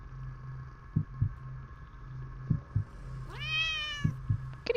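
A cartoonish cat in the video game The Cat Lady gives one rising, drawn-out meow near the end, over a quiet ambient hum and a slow, muffled double-thump heartbeat rhythm, no talking.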